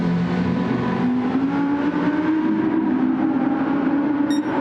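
Race car engines in a GT3 sim racing game, a Porsche chasing a Ferrari, roar loudly and continuously with pitch climbing as one engine revs up through the gears.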